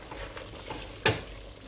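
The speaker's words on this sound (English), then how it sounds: "Now, let's give it a good mix." Lamb korma stirred in separating oil in a pan, a soft sizzle with a quick scraping stir and one sharp clink of the spoon against the pan.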